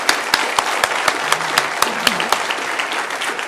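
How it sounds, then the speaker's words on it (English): Applause from the audience at a Q&A session with Warren Buffett, a steady, full crowd clapping with a few sharper individual claps standing out. "Let's give a good round of applause to that."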